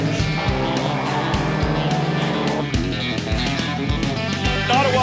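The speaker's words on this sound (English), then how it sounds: "Number 26 of Hill has got that Shopify Audi right on the driving edge" An Audi TCR touring race car competing on a circuit in the TCR Canada championship, its engine roaring loudly and continuously with rapid gear shifts and pitch changes, close and dominant throughout.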